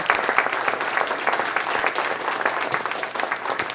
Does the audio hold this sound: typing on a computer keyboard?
no